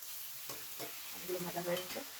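Ground spice paste fries in a pan for a fish curry with a quiet, hissing sizzle and a few stirring scrapes. A brief faint voice murmurs in the background.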